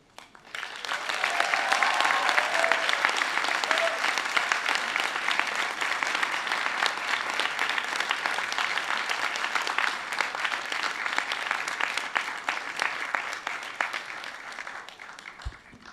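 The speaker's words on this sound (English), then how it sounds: "give them an even louder, rousing round of applause, because they too have earned it" A large crowd of graduates at a university graduation ceremony claps loudly for their family and friends, sustained rousing applause that swells quickly and holds before fading out.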